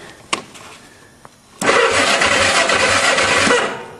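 A go-kart engine at a farm, powered by a jumper battery, starts after a couple of faint clicks, catching with a sudden burst and settling into a loud, steady, close-up running drone.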